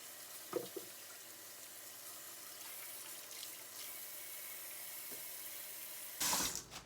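Water runs steadily from a kitchen tap into a sink to make fresh dishwater, a soft continuous hiss with a faint knock or two, ending in a louder gush near the end.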